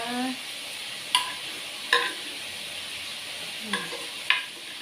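Pork frying in a pan gives a soft, steady sizzle, punctuated by a few sharp metallic scrapes and clicks of stirring spaced a second or so apart, with a brief voice at the start.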